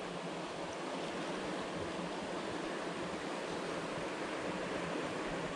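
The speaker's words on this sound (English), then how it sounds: "Water's cranking." Rushing mountain stream water, a broad continuous roar of flowing water that stays steady and fairly loud from start to finish with no voices.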